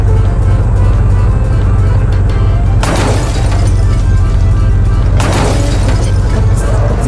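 A car driving in a horror video game, its engine a steady low rumble throughout, broken by two loud crashing impacts partway through, as if the car slams into something.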